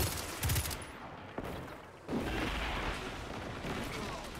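Bursts of video game gunfire sound against a large enemy in the final story mission, with a sharp volley near the start, a crack partway through, and a sustained rattling barrage afterward. A faint voice comes through underneath.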